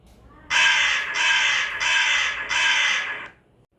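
A crow gives four loud, harsh caws in a steady rhythm, each a drawn-out rasping call with short gaps between, close and clear over a quiet background.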